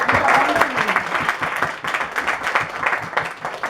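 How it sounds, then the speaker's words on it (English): A sermon audience claps in a lively round of applause, individual claps distinct and rhythmic within the crowd, swelling and dipping slightly, with a voice faintly underneath. "Let's give them a round of applause again."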